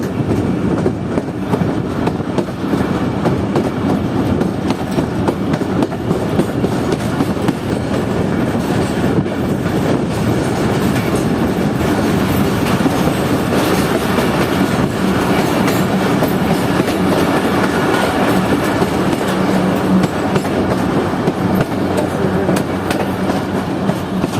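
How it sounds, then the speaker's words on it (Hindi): A Pakistan Railways Jaffer Express passenger train rolls downhill under RG20 dynamic braking, giving a steady, loud rumble of wheels and carriages with low mechanical drone throughout and no voices. "RG20 डायनामिक ब्रेकिंग का इस्तेमाल करते हुए आहिस्ता आहिस्ता ट्रेन को नीचे उतार रहा है।"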